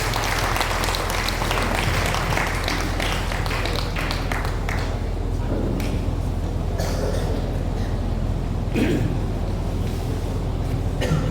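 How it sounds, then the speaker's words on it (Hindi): A crowd at a youth leadership training event gives sustained, loud applause for speaker Sanjay Pahan, an unbroken wash of clapping lasting over ten seconds. "जोरदार तालियां।"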